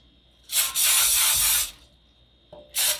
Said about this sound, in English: I'm just going to spray it with some olive oil cooking spray